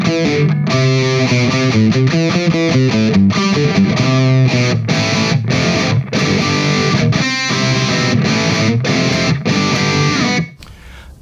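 High-gain distorted electric guitar through a Two Notes Opus amp simulator plays fast, aggressive riffs with choppy stops, loud and dry, ending abruptly.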